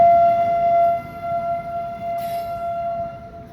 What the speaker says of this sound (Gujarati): તો જો કઈ રેલગાડી આવી ગઈ છે.